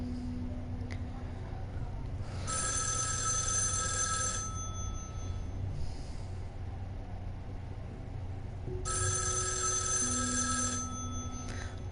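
An old-style telephone bell rings in two long bursts separated by a pause of several seconds, loud and harmonic over a low rumbling background.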